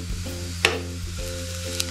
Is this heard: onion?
yes